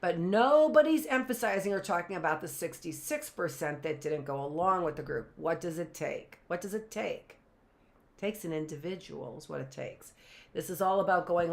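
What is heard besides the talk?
No everyday noise stands out behind the speech.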